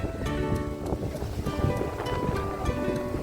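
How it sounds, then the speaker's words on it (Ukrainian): Strong wind buffets the microphone in steady gusts, with faint waves and distant voices from a busy Black Sea beach in Odesa underneath. "піднявся вітер дуже сильний"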